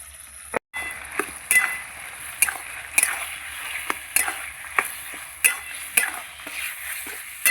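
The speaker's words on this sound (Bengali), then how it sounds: "মাংসটা একটু নেড়ে দিচ্ছি।" Mutton being stirred in a pan, with a series of sharp, spaced scrapes and knocks from the spoon over a low, constant sizzle, close by.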